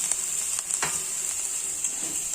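Onions with carrot fry in a pan with a steady, bright sizzle, joined by a few soft stirring scrapes, close and fairly quiet, and nobody speaks.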